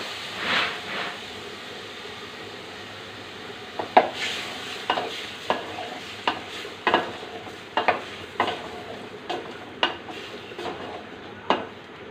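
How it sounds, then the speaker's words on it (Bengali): Potato and ridge gourd fry in a pan for a fish curry, a low steady sizzle under repeated sharp scrapes and clanks of a spatula stirring at irregular intervals, close and without talk. "এখন আমি আলু আর ঝিঙেটা দিয়ে দেবো"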